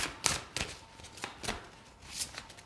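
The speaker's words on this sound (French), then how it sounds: "Je vais vous tirer donc 3 cartes" Oracle cards being shuffled and drawn for a Native American heart oracle reading: several crisp papery riffles and slaps, spaced irregularly, close and fairly quiet, with no talking.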